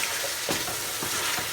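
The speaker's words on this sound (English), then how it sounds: "So I'm going to add in my pilau mix, rice mix." Pilau rice mix is tipped into frying chicken and stirred, giving a bright, steady sizzle with quick scraping strokes at close range.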